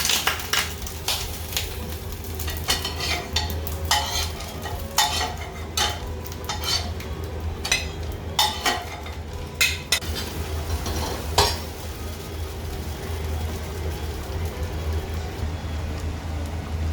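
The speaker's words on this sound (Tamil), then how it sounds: "முட்டை ரொட்டி வாங்கோ சுட்டு பார்ப்போம்." Egg roti being stirred and cooked in a pan in a Sri Lankan home kitchen, with repeated sharp utensil clinks and scrapes against the pan over a steady low background hum, no talking.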